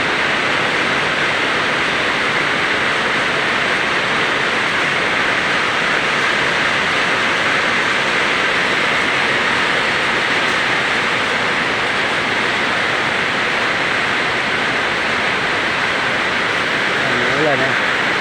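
Sudden heavy rain pouring down over a rice field, a dense, steady hiss that stays loud and unbroken throughout, with a faint voice near the end.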